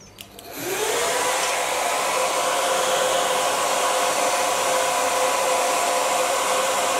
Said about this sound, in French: Je vais prendre le sèche-cheveux.